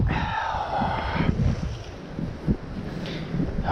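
Strong gusty wind buffets the microphone beside trout water, a steady broadband rush with a brief harmonic whine early on and a few louder gust thumps, no talking.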